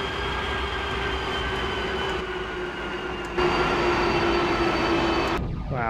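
A Douglas World Cruiser in a flight simulator powering up for takeoff, a steady droning engine hum with a sustained tone that swells louder midway, then cuts off near the end, no talk.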